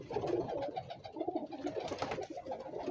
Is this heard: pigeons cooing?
yes